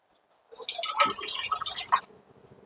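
A short splashing pour of a little water into a mixer jar, lasting about a second and a half, close and clear, with quiet before and after.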